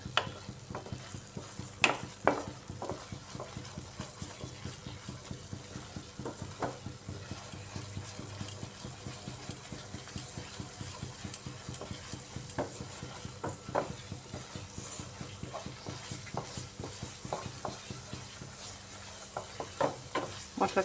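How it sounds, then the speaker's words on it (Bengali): Spice paste being stirred and fried in a wok for a vegetarian potol and paneer curry, with a steady sizzle under repeated scraping strokes of a spatula throughout, fairly close and without talk. "আরেকটু সময় কষিয়ে নিচ্ছি মশলাটাকে"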